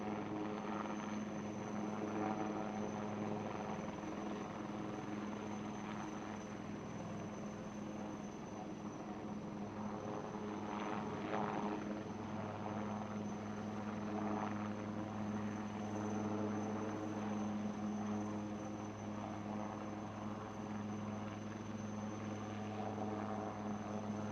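An ALH military helicopter hovering during a naval beating retreat and tattoo ceremony, its rotor and engine drone steady and continuous at a moderate distance, with faint crowd murmur beneath.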